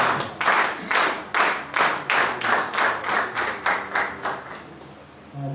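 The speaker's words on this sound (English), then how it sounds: "please let's appreciate the Director with a round of applause" Clapping at a business meeting for the Director, heard as close, rhythmic bursts of hands striking together at a steady pace, each beat fading before the next, with no talking.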